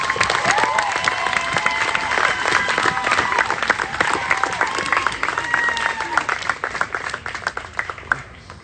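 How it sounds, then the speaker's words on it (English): Sustained applause from a crowd, dense and steady, with some voices and cheers mixed in, fading slightly at the end. "Give a round of applause for him."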